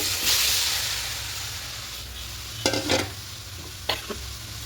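Chicken pieces dropped into a hot, dry kadai with no oil give a continuous close hiss over a low hum. A few sharp sizzling bursts and stirring scrapes arrive in the second half.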